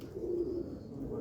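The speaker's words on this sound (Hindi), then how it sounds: "इमाम दीन है जी ईरान साहब का बड़ा कबूतर।" A large, older pigeon coos briefly nearby on a rooftop loft, a low, soft purring coo with faint background noise.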